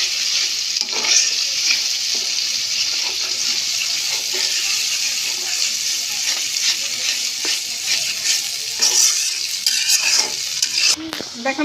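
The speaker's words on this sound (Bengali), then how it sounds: "সব মশলাটা দিয়ে চুলাতে আমি তেলের সাথে ভালো করে নেড়ে চেড়ে কষিয়ে নিয়েছি।" Spice paste of ginger, garlic and mustard fries in oil on a stove while being stirred, a continuous close hiss and crackle with soft scraping strokes throughout and a small clatter near the end.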